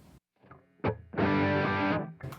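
Electric guitar through a pedal board with a Pinnacle drive pedal switched on, a short picked note, then a held distorted chord ringing for about a second, close and fairly loud.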